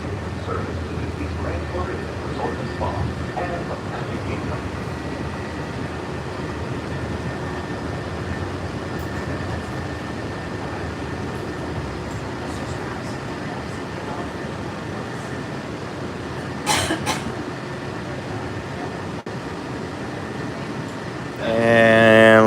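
Walt Disney World monorail train running steadily through the whole stretch, a continuous rolling rumble with a brief brighter swell near the end, as speech murmurs over it.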